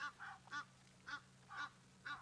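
Egyptian geese honking in a series of five short, harsh calls at a regular pace, fairly distant and quiet over a low steady hum.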